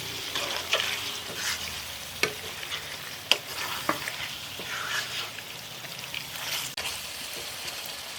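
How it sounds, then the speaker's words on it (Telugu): Chicken liver and gizzard, seasoned with salt and turmeric, frying in a pan and stirred with a spoon, giving a steady sizzle with sharp scraping clicks against the metal, close and fairly loud, no talk. "ఇది బాగా కలిసే వరకు తిప్పుదామండి."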